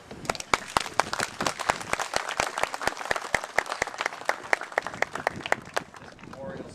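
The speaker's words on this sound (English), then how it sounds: "So let's give them a round of applause." An outdoor Memorial Day ceremony crowd at a Gary New Duluth neighborhood memorial breaks into dense, sustained applause, many hands clapping together fairly close and loud, thinning out toward the end.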